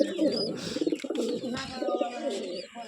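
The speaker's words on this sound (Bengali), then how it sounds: "এই দেখুন আবলুক পায়রা আছে।" Ablak pigeons coo in a steady, low, rolling murmur that fills the whole stretch, fairly close and continuous, with a few brighter flutters over it.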